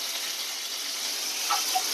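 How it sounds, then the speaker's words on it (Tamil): Mustard seeds and curry leaves spluttering in hot oil with crushed garlic, a steady close hiss with faint pops, no talking. "இப்போ இதில் கடுகு இந்த இதெல்லாம் வந்து பொரிஞ்சுட்டு இருக்குது, பொரியட்டும்"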